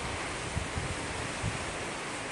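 Strong wind from Typhoon Tino roars steadily and broadband, buffeting the microphone with low gusty thumps, loud and continuous.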